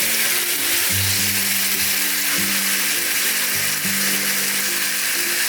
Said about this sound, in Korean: 팬이 뜨거워지면 갈비를 올려주세요.